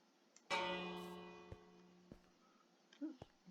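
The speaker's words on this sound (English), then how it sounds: "can I ring the bell?" A single bell struck in a video game rings out loudly and decays slowly over a few seconds, leaving faint ticks and small game sounds behind it, with no speech.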